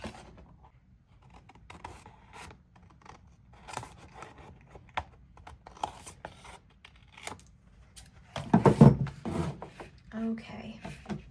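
Scissors snip away excess paper overhang on a handmade layered pocket mini album, a few close, crisp cuts and rustles building to a louder burst of paper handling near the end.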